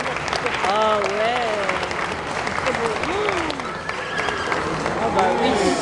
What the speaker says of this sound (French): vous pouvez les applaudir plus fort